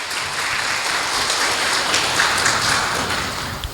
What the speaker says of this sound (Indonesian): Sekali lagi tepuk tangan untuk Komisi 11.